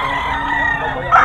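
Rooster of a sweater-type gamefowl line at a Bocaue market sounds a short, loud crowing call that swells near the end, against busy background noise.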